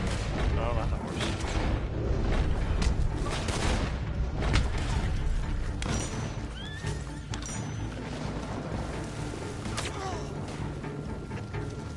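A horse whinnies over a busy, continuous game soundscape in Red Dead Online, with hooves and distant booms, voices talking throughout.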